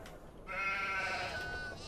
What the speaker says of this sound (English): I think our sheep are happy for it. They sound so.